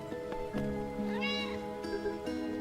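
A cat meows in a video game with a rising, drawn-out cry over a steady musical background, with short tonal calls before and after.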